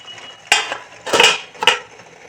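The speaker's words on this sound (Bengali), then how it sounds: "ছোট্ট বাটিটা মাঝখানে বসিয়ে একটু থালা দিয়ে ঢেকে দেবো।" A plate set over a small bowl in a home kitchen: three distinct clinks and scrapes of dishware, close and fairly sharp, with a quiet pause between each contact.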